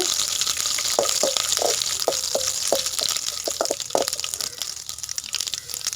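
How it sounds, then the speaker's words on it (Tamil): Curry leaves and two dried red chillies fry and sizzle in a pan. A steady hiss continues as a spoon stirs them, with a string of light scraping taps. "2 கொத்து கருவேப்பிலை சேர்த்திக்கலாங்க. 2 வரமிளகா கிள்ளி போட்டுக்கலாங்க. இது எல்லாத்தையும் நல்லா கலந்துக்கலாங்க."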